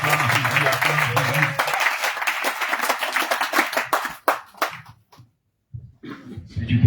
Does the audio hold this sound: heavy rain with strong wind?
no